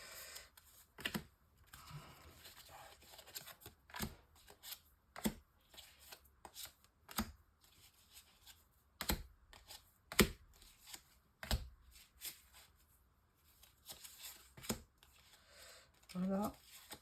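Oracle cards are handled, shuffled and laid down on a table during a reading. Soft scattered taps and slaps are heard close and quiet, with a short rustling burst at the end and a voice speaking over them.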